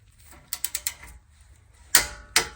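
A torque wrench tightens a castle nut to 33 foot-pounds during lower control arm replacement on a 2013 Nissan Pathfinder: a quick close run of four ratchet clicks, then two louder metallic clunks, with no talking.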